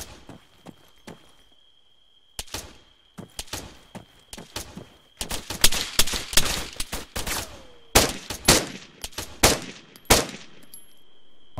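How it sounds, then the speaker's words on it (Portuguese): Gunfire in the ARMA 3 video game: sharp shots, sparse single cracks at first, then dense bursts and volleys, loud and close, over a faint steady tone with no talking. "Eu escutei tiro aqui de cima."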